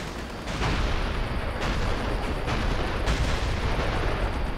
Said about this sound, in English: We've got incoming artillery support,